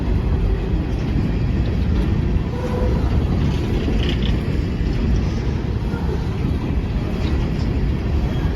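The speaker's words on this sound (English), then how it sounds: "Squeaky cars, listen." Empty BNSF coal train cars rolling past with a steady, dense rumble and faint high squeals from the cars, continuous and fairly close throughout.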